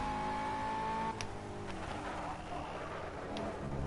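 A McLaren GT3 race car drives a lap of the French GP circuit in a racing game, its engine a faint, steady tone with a brief shift in pitch partway through.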